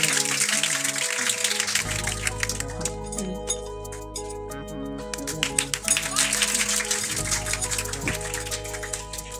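Students at a Class 10 farewell ceremony in Bihar clap in scattered, uneven bursts that swell and fade, under music and voices in the room.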